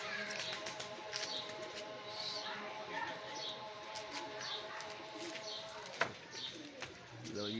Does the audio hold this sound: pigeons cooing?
yes